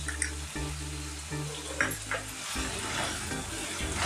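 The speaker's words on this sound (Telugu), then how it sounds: "సాల్ట్ వేసుకొని కలుపుకోవాలి." Spoon stirring salt into a hotel-style chicken kurma curry in a pan, with soft scraping strokes over a low simmering sizzle, close and steady with no talking.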